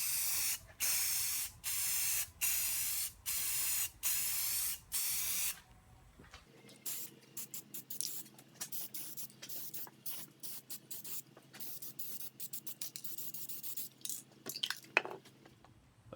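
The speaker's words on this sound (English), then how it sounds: "I'm just going to go ahead and spray it with some primer here." A spray can sprays primer onto a drill press part in several short rhythmic bursts of loud hiss, followed by quieter scattered spray hits and faint handling noises.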